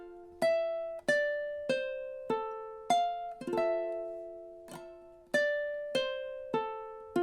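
Plucked ukulele melody from a song, a steady sequence of about a dozen clear notes and chord strums at an even walking pace, each ringing briefly before the next, played alone and close.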